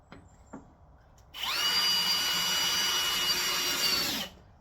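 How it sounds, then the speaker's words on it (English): A power drill runs in one steady burst of about three seconds into a piece of wood, close and loud, after a couple of faint clicks. "Let's go ahead and drill that in."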